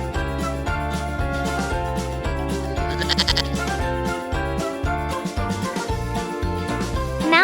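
A mountain goat bleats in a loud, sustained and wavering cry that is close and fills the whole stretch, with a faint jingling at points and no speech.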